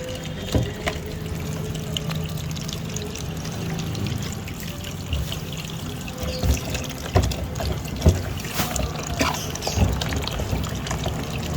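Water pours steadily from a tap while raw pork is washed before grilling, a continuous splashing flow with occasional knocks and handling thuds, close by and without talk.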